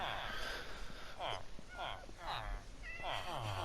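A Minecraft cat meows several times inside a prison build in the video game, short repeated in-game mews heard under a player's talking.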